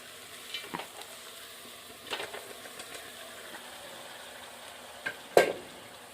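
Moong dal lentils go into a pan and get stirred in a village kitchen: a faint steady sizzle under scattered soft scrapes and knocks, ending with one sharper close clack.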